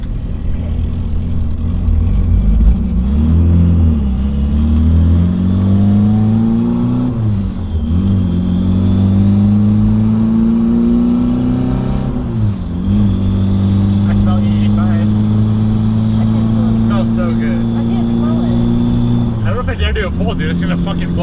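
A 1000 WHP Mitsubishi Evo 9 running 48 psi of boost revs hard while driving, its engine note repeatedly climbing and dropping back through gear changes, loud and close from start to finish, with voices faintly underneath.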